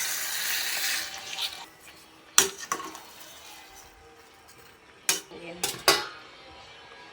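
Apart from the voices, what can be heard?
stirring pork and chicken adobo in a pot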